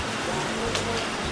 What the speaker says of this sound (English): So guys, it is raining.